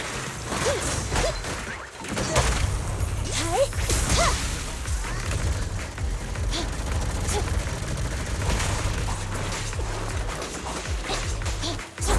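Gunfire and combat effects in the action video game Zenless Zone Zero, with repeated shots, whooshes and impacts forming a dense, loud, continuous barrage across the whole stretch, alongside brief game voice lines.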